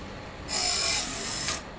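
A Woodland Mills Grindlux 4000 grinder sharpens a sawmill bandsaw blade, giving a bright, hissing grinding rasp that rises suddenly, holds for about a second, then cuts off over a low background rumble.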